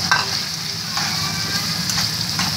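Keema frying in a pan, an even close sizzle with a few soft stirring scrapes, heard alone without talk.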